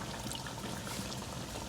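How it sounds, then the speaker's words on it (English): Warm water pouring into a pot of Haitian coconut fish stew, a steady continuous splashing trickle heard up close and evenly loud throughout, with no voices. "I'm gonna just add just a little bit of water, just warm water on the side."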